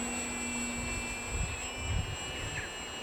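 An E-flite M7 Maule RC model tail-dragger airplane flies slowly overhead, its electric motor giving a steady high whine with faint harmonic tones that shift slightly, a continuous moderate drone without talk.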